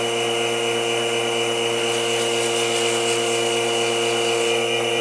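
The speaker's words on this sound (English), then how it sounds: "Now I'm finishing up my sanding." A power sander whirs steadily against a dogwood bowl spinning on a lathe, a constant, even drone with no pauses over the full stretch and no voices.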